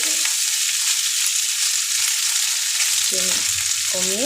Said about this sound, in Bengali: সাদা তেলে এখন এটাকে ভাজা ভাজা করে দেবো